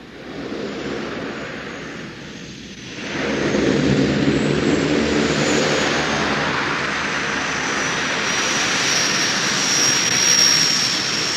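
Steady, loud drone of a Twin Otter airplane's engines carrying rice on a supply flight over the Himalayas, with a brief dip near the start before the engine roar swells and holds evenly throughout.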